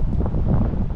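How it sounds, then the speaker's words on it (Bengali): Strong wind sweeps across a scenic hillside spot in Kenya, a loud, close buffeting rush against the microphone for a brief moment, with no talk. "বাতাসও প্রচুর।"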